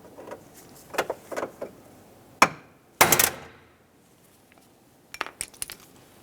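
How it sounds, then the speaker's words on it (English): A hammer strikes a small punch to knock out the rivet centers holding the window regulator inside the door of a 1998-2002 Lincoln Navigator, a series of sharp metallic taps and a few heavier clanks with quiet gaps between. "start by punching out the center using a hammer and small punch."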